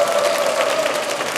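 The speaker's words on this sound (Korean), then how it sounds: "박수 부탁드리겠습니다" Audience applause at the close of a Buddhist dharma lecture, a steady, loud burst of many hands clapping together.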